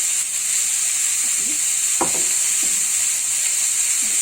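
Bacon starting to cook in a pan gives a steady, loud sizzling hiss throughout, with one brief clatter of the pan partway through.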